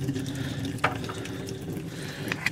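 Water drains out of the lines of a pool system being winterized, a steady close rush and trickle of flowing water with faint intermittent clinks and splashes, no talk.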